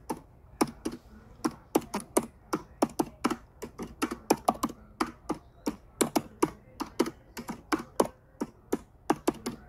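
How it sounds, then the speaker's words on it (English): Typing on a computer keyboard with one finger, a quick irregular series of sharp, close key taps with short pauses between bursts. "He got out of breath typing with one finger."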